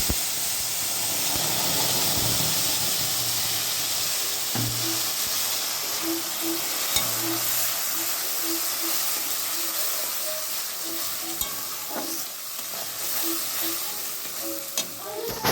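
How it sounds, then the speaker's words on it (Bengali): Dried red chillies, whole cumin and bay leaves crackle in hot oil for a tempering, a continuous close hiss and sizzle with a few faint pops and clicks running throughout. "এদিকে ফোড়নে দিয়েছি শুকনো লঙ্কা"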